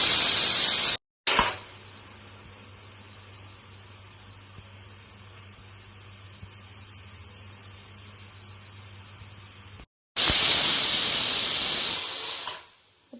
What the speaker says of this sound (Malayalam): നമ്മുടെ കുക്കറിൽ വിസിലടിച്ചു, 1 വിസിലായി